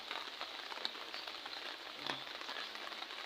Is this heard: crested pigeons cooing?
no